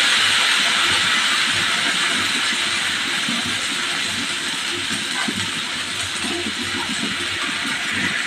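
Rice batter for Konkan-style seven-layer ghavan hits a hot pan and sizzles into a steady, close steaming hiss that holds evenly for the whole stretch, with faint low clatter underneath.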